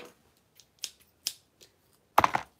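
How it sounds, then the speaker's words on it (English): Scissors make a few sharp, quiet snips close by, spaced irregularly and ending in a louder crunching cut, with no talk. "Scissors."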